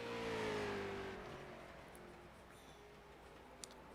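Race car in a Mason Dixon Racing Series qualifying session passing on track, its engine note falling in pitch and fading into the distance, followed by faint far-off engine drone.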